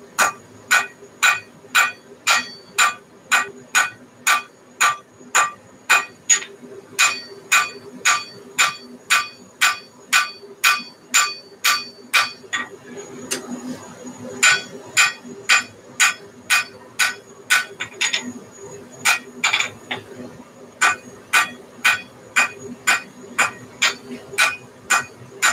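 Steady hammer blows on hot steel as a smith scarfs the ends of a Viking axe for forge welding, bright ringing strikes in a regular rhythm of roughly two per second, with a short pause partway through.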